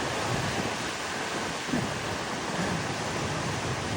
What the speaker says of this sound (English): look at the ocean. Got some good surf going.